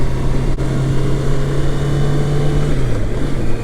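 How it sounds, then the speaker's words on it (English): A 2020 Honda CBR650R motorcycle out on a ride, its engine holding a steady close drone that dips slightly in pitch near the end, mixed with continuous wind rush and no talk. "this is me riding my 2020 CBR650R"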